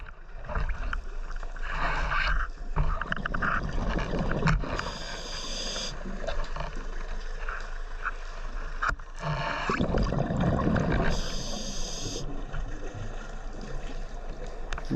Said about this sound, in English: I can just hear the engine.